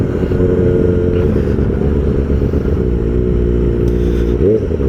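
A Kawasaki ZX-4RR motorcycle engine runs steadily at a loud, close idle, holding an even rumble with a slight rise in pitch near the end.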